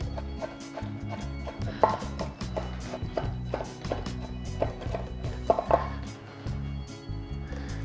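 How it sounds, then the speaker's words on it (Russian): A knife chopping mushrooms on a board, a run of quick, close, rhythmic taps with a few sharper knocks, steady and uninterrupted. "Сейчас нарежем грибы и поставим их отваривать."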